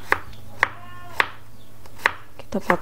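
A knife chops through peeled garlic cloves on a cutting board, slicing them thin for a stir-fried bean sprout dish; five or six sharp, close taps land at uneven intervals with quiet gaps between them.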